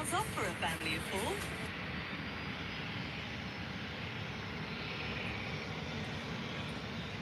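Jet2 airliner engines whine and roar at Faro airport, a loud, steady broadband rush sustained throughout with a brief higher tonal whine at the start; a voice talks faintly underneath.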